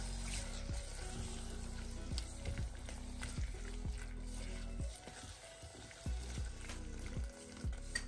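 Tomatoes with salt cooking in a pan for vegan tomato soup, a soft sizzle with regular stirring strokes at a gentle pace, fairly quiet with no voices.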